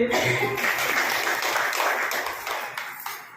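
A group claps and applauds in a brief, steady burst that fades slightly toward the end, fairly close and without any talk over it.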